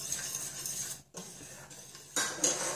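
A utensil stirs a squeezed gelatin sheet into hot sugar syrup in a pot for a strawberry charlotte, giving soft, faint scraping and light metallic clinks, with a brief pause midway before the stirring resumes.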